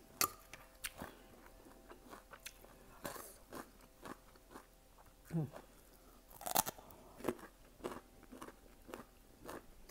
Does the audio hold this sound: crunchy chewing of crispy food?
yes